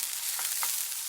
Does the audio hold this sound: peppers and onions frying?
yes